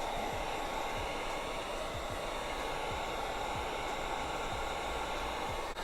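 A heat gun blows a loud, steady broadband hiss at close range while warming adhesive tape on a BMW G20 M340i, with faint rhythmic swishes as it is swept up and down.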